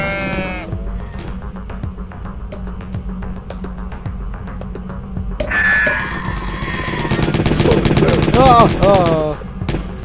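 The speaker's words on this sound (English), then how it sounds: "Cork launcher" A cork launcher fires in the video game Jazzpunk, a run of quick sharp popping shots in rapid succession followed by a louder burst of bleating, squealing game sounds.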